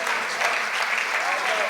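Steady audience applause at a Hindi comedy poetry gathering (hasya kavi sammelan), dense and continuous clapping from a crowd filling the whole moment with no pause.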